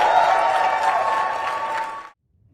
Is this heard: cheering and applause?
yes